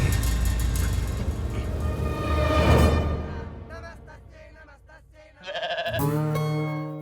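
A goat bleats in a movie comedy scene, a loud wavering cry over a rumbling background with music-like tones, the sound rising mid-clip then returning in a second burst near the end.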